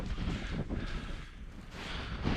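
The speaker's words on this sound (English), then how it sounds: "The wind's picking up now." Wind gusts roar and buffet the microphone at a stormy, freezing, rainy wild camp in the Lake District, producing a continuous broadband rush that swells and fades, with no talking.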